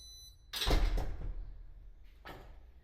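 A museum entrance door opens as visitors come in, a loud rushing, scraping swing followed by a softer second movement of the door, with no one speaking.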